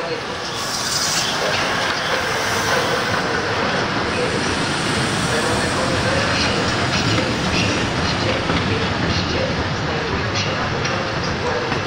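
A TLK long-distance passenger train at a Polish station platform, with loud continuous rolling rumble and clattering wheels throughout, plus a faint station announcement in the background.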